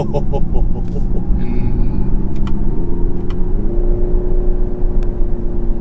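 A Hyundai Ioniq 5 N electric car accelerates in manual mode with a steady engine whir, its pitch climbing and then stepping up twice through simulated gear shifts, with no talking.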